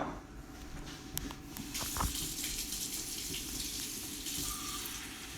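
Warm water pours steadily from a kitchen tap while bun dough is being prepared, a continuous close gushing stream with small splashes and clatter, no voices.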